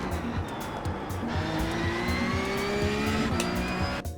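A race car in a sim racing game brakes hard at the 50-metre board, its engine a loud, continuous drone with shifting whining harmonics and a faint tyre scrub, with no voices over it.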